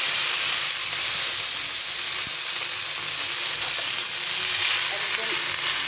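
Boiled pasta tossed into a pan with about two spoons of hot oil sizzles in a loud, continuous hiss that holds steady throughout, with no talk.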